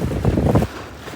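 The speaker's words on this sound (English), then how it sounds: "But at least there is wind." Broadband wind rushing over a sailboat at sea in a 5-6 Beaufort breeze, loud and steady for most of the moment before dropping abruptly to a softer background hiss, with no voices.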